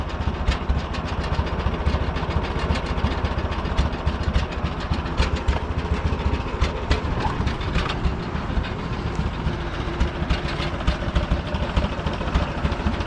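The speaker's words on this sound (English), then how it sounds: "So I'm not sure how low it is idling." An old Oliver Super gasoline tractor engine idles low and steadily with a rapid, rhythmic chugging and mechanical clatter, continuous and fairly close, with no voices.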